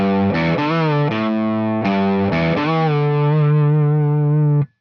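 Distorted electric guitar plays a riff, with several picked notes and a whole-step string bend that sustains loudly, then stops abruptly.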